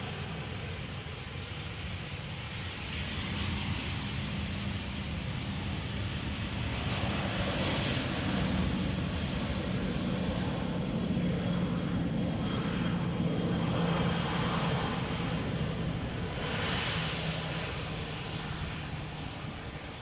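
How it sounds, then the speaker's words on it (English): An ITA Airways A319 airliner arriving from Milan at Amsterdam Schiphol makes a distant, steady engine roar that swells gently and then fades over about twenty seconds. "This is ITA Airways flight 120, coming in from Milan,"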